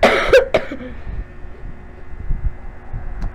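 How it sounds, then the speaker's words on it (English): A couple of sharp, close coughs right at the start, followed by quiet rustling and faint background hum. "Sorry, I have a cough right now."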